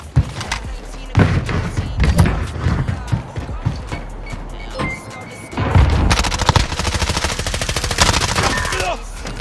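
Gunfire during a search and destroy match in a first-person shooter, with heavy rapid automatic bursts, sharp single shots and mechanical clatter, loud and close, interrupted by a brief lull before firing resumes.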